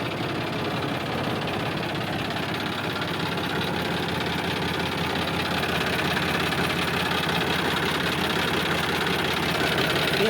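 A John Deere tractor's diesel engine runs steadily at idle, a continuous low rumble with faint knocking and vibration, close by and alone.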